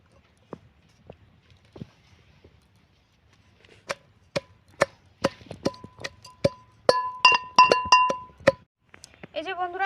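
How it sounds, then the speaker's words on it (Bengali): Garlic leaves, green chili and coriander are pounded in a wooden mortar: sparse dull knocks at first, then a steadier run of sharp, close strikes that grows louder toward the end. "এবারে এগুলাও এই ছামের মধ্যে আমি কুটে নেব"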